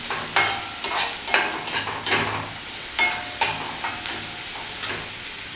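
Mushrooms braising in butter in a pan over medium flame, giving a steady soft sizzle with repeated scraping stir strokes, close and moderately loud, with no talking.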